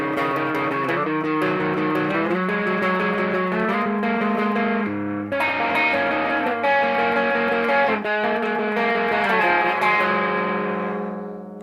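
Guitar played through a Caline Orange Burst CP-18 overdrive pedal with the drive turned fully up, giving a thick, saturated, sustained tone as chords and notes ring out continuously and fade at the end.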